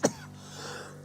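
A single short cough after inhaling chili pepper syrup, one sharp close burst followed by quiet room tone.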